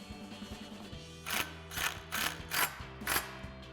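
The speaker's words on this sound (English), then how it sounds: "Then we can install our T30 Torx screw. Then we'll tighten that down." A T30 Torx screw being tightened with a ratchet while installing a Bestop Supertop soft top on a Jeep Wrangler JL, a rapid close clicking ratchet with several short bursts of turning.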